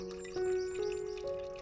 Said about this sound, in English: we get lots of visits from local birds and bees who add their own song to the garden